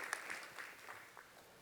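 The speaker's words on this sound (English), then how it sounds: "Give her a round of applause." Audience applause at a startup pitch competition during Pause Fest 2020, a fairly faint, brief burst of clapping from the crowd as a speaker takes the stage, fading out within under two seconds.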